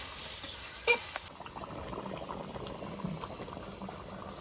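Ghugni made with masoor lentils and potato simmers in a pot, giving a faint, steady bubbling and soft liquid popping throughout, with one brief clink near the start.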